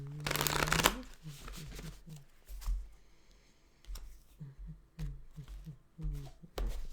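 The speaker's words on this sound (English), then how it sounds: "So I'm going to give it a couple shuffles" Runic Tarot cards being shuffled, starting with a loud riffle and followed by repeated softer card slaps and shuffles at close range.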